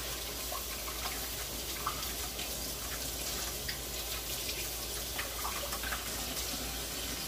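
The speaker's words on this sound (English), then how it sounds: "Let me wash my hands, get this dough off." Tap water running while hands are washed free of bread dough in a home kitchen, a steady hissing stream at moderate distance with faint splashes and no talk.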